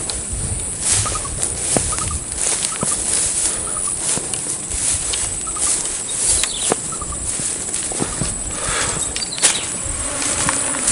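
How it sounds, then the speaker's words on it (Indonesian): A fly buzzes intermittently beside a long drainage canal outdoors in Palembang, with faint whining passes over a busy background of birds and insects, and no voices. "ada lalat"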